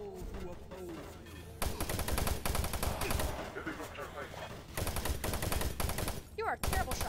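Rapid automatic gunfire from the video game Doom 3 rattles in loud sustained bursts, with a short pause and an electronic effect near the end, mixed with faint game voices.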